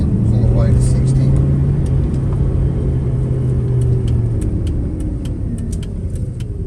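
A Ford 351 V8 car in second gear pulls away from low speed, a steady loud engine rumble building under road and cabin noise, with someone talking over it.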